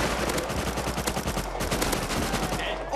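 Rapid automatic gunfire rings out in the survival video game Rust, a loud close burst of rattling shots throughout.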